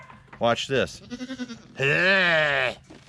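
Goats bleat loudly and close by in reply, one long wavering bleat following a short spoken phrase and a series of quick choppy calls.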